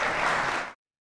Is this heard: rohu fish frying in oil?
no